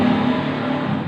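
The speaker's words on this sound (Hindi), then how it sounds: "आपको शोर सुनाई दे रहा होगा, ये साथ ही रोड है" Steady broadband rumble of passing road traffic, a continuous wash of engine and tyre noise with no speech.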